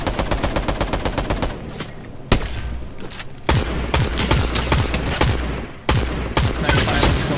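Rapid automatic gunfire in a video game combat match, dense bursts of shots with brief pauses, loud and close throughout.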